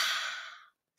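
A single deep, forceful breath exhaled through the mouth in a dragon-breath exercise, a loud close breathy rush fading out after about two-thirds of a second, followed by silence.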